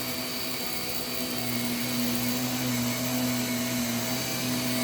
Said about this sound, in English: Vacuum the floor.